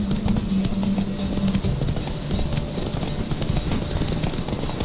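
A horse gallops in The Witcher 3: Wild Hunt, with rapid, steady hoofbeats running continuously over a low ambient bed, close and fairly loud.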